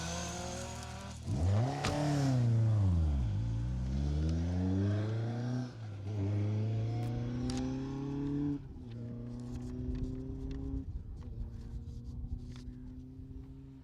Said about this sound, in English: I keep hearing the cars come over the cattle grid after the finish